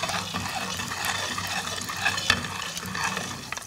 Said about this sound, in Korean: 약간 기름이 좀 덜 뜨거워졌지만 이런 식으로 굽는 거예요.